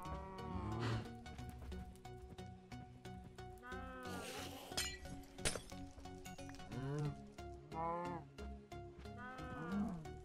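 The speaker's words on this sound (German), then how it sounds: "Vielleicht doch so viele Kühe." Cattle in Minecraft low and moo in several short, repeated calls scattered over a steady game background, at moderate volume with no voices.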